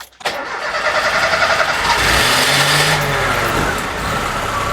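A 30-year-old Lada Niva engine cranks briefly, catches and settles into a steady, loud, close-up running rumble that holds for several seconds with no talk over it.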